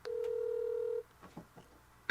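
A telephone ringback tone sounds while a call is being placed: one steady, clear tone lasting about a second, followed by faint background sounds and a brief click at the end.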